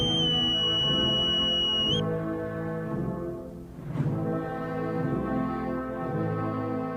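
Boatswain's whistle at a ship's gangplank during a funeral, a shrill steady note lasting about two seconds over a ship's band playing Chopin's Funeral March, which carries on alone afterward.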